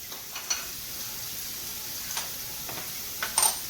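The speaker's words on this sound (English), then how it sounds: "let those fry. Put them on high. Let them fry." Marinated portobello mushrooms fry in a pan over high heat, giving a faint, steady sizzling hiss with a few brief crackles and spits, the loudest near the end, and no voices.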